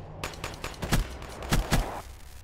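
Gunfire in a Call of Duty match, a rapid run of sharp shots in irregular bursts, loud and close, with a few heavier booming reports toward the middle.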